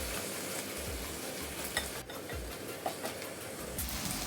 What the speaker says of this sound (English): along with the onion, the Scotch bonnet pepper, the ginger, and the garlic, and I'm going to saute those off.